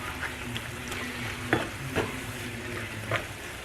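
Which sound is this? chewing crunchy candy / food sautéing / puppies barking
food sautéing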